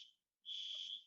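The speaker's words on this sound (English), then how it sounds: "oh, there is some fire alarm." A fire alarm goes off during a lecture, giving a high, piercing electronic tone that stops briefly and then resumes steadily. It sounds faint and distant in the room.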